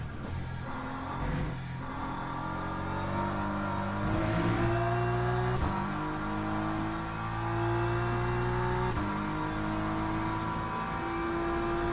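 Racing car engines in a Le Mans video game whine and rev through repeated gear shifts, pitch climbing and dropping several times, loud and steady throughout.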